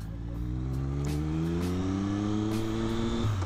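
A naked motorcycle's engine is rev bombed, its tone climbing steadily in one long, loud, sustained rev that drops off at the very end, heard close up with no talking.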